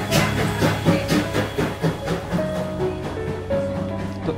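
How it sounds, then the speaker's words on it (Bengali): A vintage steam train built in 1950 approaches on a hill route, with loud rhythmic chuffing beats and a sustained tonal whistle-like hum running under the clatter. "ইঞ্জিনটা আসছে।"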